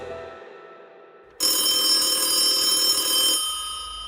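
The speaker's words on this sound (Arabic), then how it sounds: "جرس تليفون في الصالة." An electronic telephone rings in a living room, a bright sustained burst of ringing that starts abruptly after a quiet stretch and stops after about two seconds, alone without talk.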